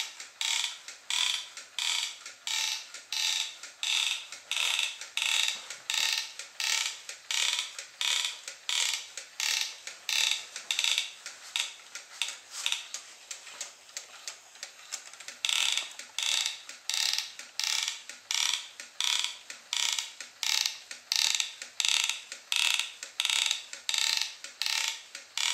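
A small inchworm crawler robot built from an old DVD drive mechanism creeps across carpet, making a continuous run of rapid, rhythmic plastic clicking and ratcheting in regular bursts, close and fairly quiet.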